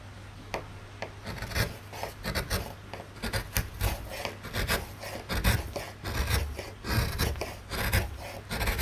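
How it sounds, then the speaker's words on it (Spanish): Gouges carve a wooden block for a woodcut print, making close, rhythmic scraping and rasping strokes in quick succession with short pauses between them. "estas se llaman gubias. Uno va tallando, tallando y tallando."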